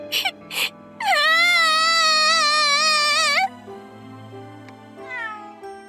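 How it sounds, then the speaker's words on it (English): A black cat in the Labyrinth of Galleria video game gives one long, loud, wavering meow lasting about two seconds, with brief soft sounds before it and quiet game ambience after. "A black cat approaches."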